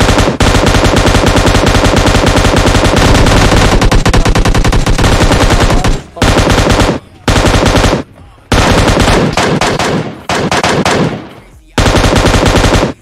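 Loud, rapid automatic gunfire from a mobile shooter video game rattles almost continuously, then breaks into several shorter bursts separated by brief pauses.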